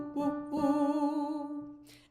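A single sung vocal exercise: three sustained, smooth "ooh" tones moving through a triad, clear and neither breathy nor harsh, heard alone with short breaks between them and a faint breath at the end.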